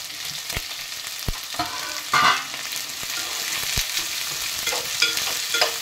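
Onion pieces fry in a pan with green chillies, a steady close sizzle punctuated by sharp spatula taps and scraping stirs.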